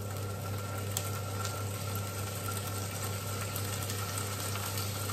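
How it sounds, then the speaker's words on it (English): A steady, even sizzle of halloumi frying in a hot pan, continuous and close, with no talking. "you'll hear it start to sizzle"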